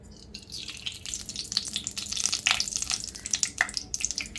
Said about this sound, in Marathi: आता आपण इथे कढईमध्ये तूप घालून घेऊयात।